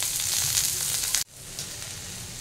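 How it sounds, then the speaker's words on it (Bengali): Beans, potato and carrot fry in a pan for chapati noodles, a steady close sizzle that drops out briefly at a stir, then resumes slightly quieter. "এবার এটা একটু ফ্রাই হতে দেবো, যাতে সেদ্ধ হয়ে যায়।"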